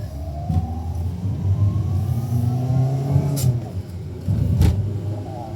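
A Mitsubishi Xpander accelerates on an open road with no traffic, its engine note climbing and falling through a rising whine, while people talk quietly inside the cabin over a steady road rumble.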